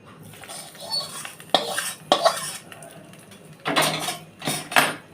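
Tempering poured into a bowl of beetroot raita and mixed, a run of spoon clinks and scrapes against the bowl in several bursts, close and fairly loud, with quiet gaps between.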